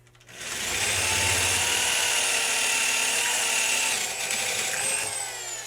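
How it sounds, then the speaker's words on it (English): A power drill with an 8.5 mm bit whines steadily at high speed, drilling out holes for a Timbersled wheel tip kit for several seconds before easing off near the end. "We're going to drill out these holes."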